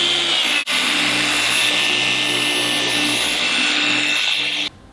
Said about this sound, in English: So now we've done the cut and polish, the 2-stage machine polish.